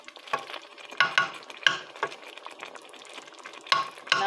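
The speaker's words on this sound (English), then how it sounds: "So we just boil this one like 3 to 5 minutes" Fresh okra stew cooking in a pot, with bubbling and sizzling and intermittent stirring scrapes at an irregular rhythm, heard up close and fairly quiet, with no talking.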